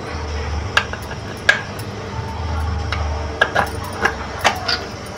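Raw clams being cut with a knife for Malvani clam curry, a handful of sharp shell clicks and taps spaced irregularly over a quiet, low background hum.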